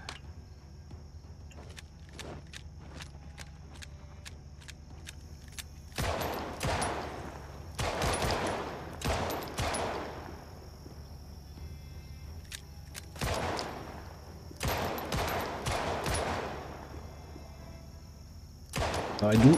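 Repeated bursts of MP5 gunfire in Project Zomboid, sharp clustered shots in several volleys separated by brief pauses, loud and close, with some lighter single clicks and taps between bursts.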